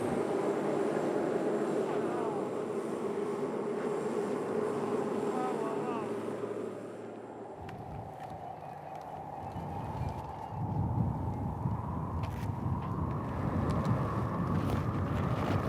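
A DC-3 propeller airplane drones steadily, a broad engine roar that shifts midway into a rougher, louder rumble, with a faint voice under the noise.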